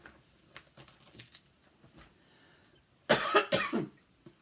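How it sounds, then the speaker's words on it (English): A couple of harsh, close coughs in quick succession after some quiet shuffling and faint handling noises. "I'm going to be coughing like I always do"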